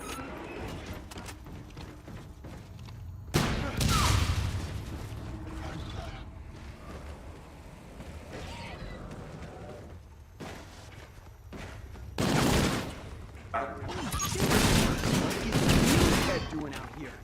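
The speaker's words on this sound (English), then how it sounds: "I'm just gonna shoot it" Repeated bursts of gunfire in Infinite Warfare Zombies, the Beast From Beyond map, loud volleys around four seconds and again from twelve to seventeen seconds, with mechanical creaks and game noise between them and speech over parts of it.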